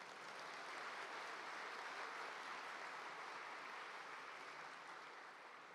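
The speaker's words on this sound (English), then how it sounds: "I expected louder applause," Faint, steady audience applause from students at a university meet-and-greet session with Malaysia's prime minister, a soft, even wash of distant clapping lasting several seconds.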